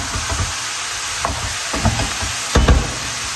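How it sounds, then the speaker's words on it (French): Chopped onion fries in a pan with a steady sizzle, while a spoon scrapes and stirs it in irregular, fairly loud strokes close by. "je vais laisser cuire l'oignon environ, il faut compter environ 5 minutes, en remuant pareil régulièrement"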